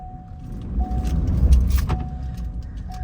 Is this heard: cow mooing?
no